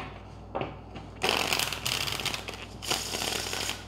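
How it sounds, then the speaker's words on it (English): Playing cards are shuffled up close in several quick riffling bursts, with brief pauses between them. "All right, one more shuffle."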